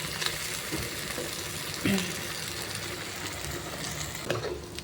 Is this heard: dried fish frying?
yes